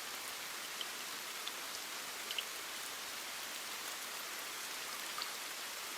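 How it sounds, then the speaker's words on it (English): Heavy rain falls steadily outside, a dense, even hiss with a few scattered louder drops, continuing unbroken with no voices. "The rain continues to fall outside"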